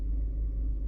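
A 2014 Chevy Equinox engine ticks over at normal idle, a steady close low rumble with no change in pitch and nothing else heard.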